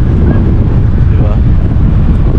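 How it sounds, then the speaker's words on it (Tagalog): Steady wind buffets the microphone at a seaside marina, a continuous low roar and rumble with no breaks, loud and close throughout. "Tapos windy nga lang."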